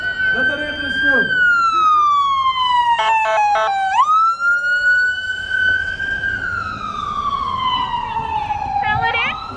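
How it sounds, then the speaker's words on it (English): An ambulance siren wails through a street rally, loud and close, its sweeping tone rising and falling over several seconds with a short burst of yelping pulses, while crowd voices and street noise continue underneath. "Let that ambulance through."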